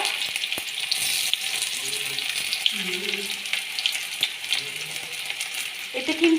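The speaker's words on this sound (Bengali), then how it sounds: "তেল গরম হয়ে গেছে বন্ধুরা। এর মধ্যে আমি দিয়ে দিচ্ছি একটা বেশ বড় সাইজের পেঁয়াজকে" A large onion, finely chopped, sizzles steadily in hot oil, a dense continuous crackle with a few sharper pops and faint clinks near the end.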